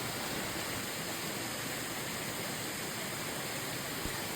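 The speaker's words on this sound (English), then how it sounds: "you'll discover this gorgeous waterfall" Waterfall on Steele Brook in the Catskills, a steady, dense rush of falling water heard close and continuous with no other sounds.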